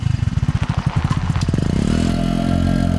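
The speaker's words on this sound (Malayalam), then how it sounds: "അതാരും ഈ നേരത്ത് ബൈക്കിൽ?" A motorcycle arrives at night, its loud, close engine thumping in rapid pulses that steady into a continuous idle rumble, with no talk over it.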